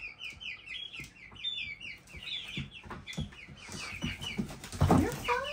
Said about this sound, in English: but I'm hearing some clucking.